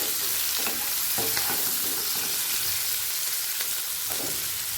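Garlic, ginger and green chilies fry together in hot oil in a pan for a butter pepper chicken, giving a steady, loud sizzle with a few soft stirring scrapes and taps throughout.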